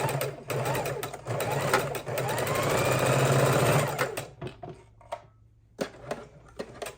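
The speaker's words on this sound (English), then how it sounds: "bring it to the sewing machine. Sew these two pieces." A sewing machine stitches two quilt pieces together for a pinwheel quilt block, a rapid mechanical whirring run for about four seconds, close and loud, followed by scattered clicks and handling sounds as the fabric is adjusted.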